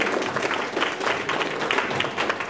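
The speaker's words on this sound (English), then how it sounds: "let's give Wayne a big round of applause" A room of attendees at a local tech meetup applauds speaker Wayne Eaker, dense, steady clapping throughout at a close, moderately loud level.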